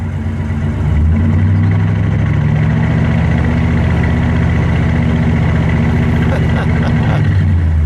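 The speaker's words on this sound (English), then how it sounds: "Go ahead, give it a rev." A 1965 Imperial Crown Convertible engine idles, then rises to a steady, louder drone that holds before easing back down near the end.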